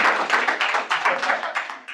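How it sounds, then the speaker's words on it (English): Small audience at a stakeholder meeting clapping, individual claps distinct and uneven, tapering off toward the end. "Oh, and a round of applause to Quincy,"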